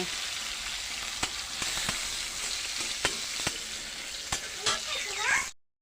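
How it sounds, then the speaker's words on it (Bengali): Steady sizzling of food frying in a pan, with occasional sharp clicks of a utensil stirring, close and fairly loud until it cuts off. "আর এদিকে তো এটা ভাজা হচ্ছে"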